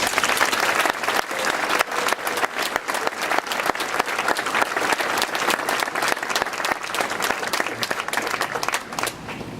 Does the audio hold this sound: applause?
yes